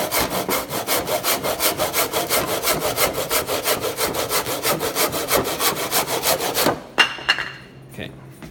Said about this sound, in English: Make sure you're always sawing straight up and down,